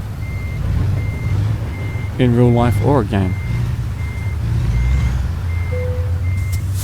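Steady reversing beeps from a truck backing a trailer into a parking spot in American Truck Simulator, evenly spaced and continuing throughout under engine rumble, with someone speaking briefly in the middle.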